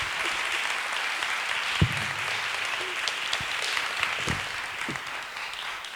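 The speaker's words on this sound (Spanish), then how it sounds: "Pues podéis aplaudir a David Trueba y Máximo Pradera," Audience applause at a talk at the Jerez flamenco and ethnographic film festival: steady, dense clapping from a seated crowd filling the whole stretch, with a few louder thumps and knocks within it.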